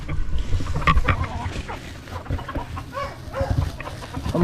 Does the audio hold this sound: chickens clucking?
yes